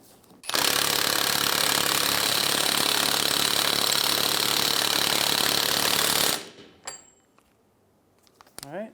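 A power tool, most likely an impact wrench, runs in one loud sustained burst of about six seconds while tightening a rear axle nut on a 2003-2011 Honda Element during a hub replacement, then stops, leaving brief quiet clicks and handling noises.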